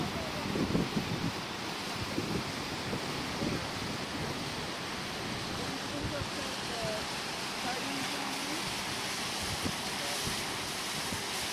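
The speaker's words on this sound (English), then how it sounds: "The waves crashing right below them." Waves break on the rocks below a coastline, a steady loud roar of surf mixed with wind buffeting the microphone, continuous with no clear pauses.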